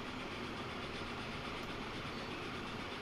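A train rumbles along steadily in the Transport Fever 2 video game, a continuous low, faint running noise with no voices.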